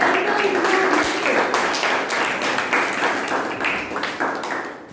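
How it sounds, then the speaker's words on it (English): An audience at a Toastmasters club meeting gives a steady round of applause for a speaker, the clapping fairly close and continuous, easing slightly toward the end. "With a huge round of applause"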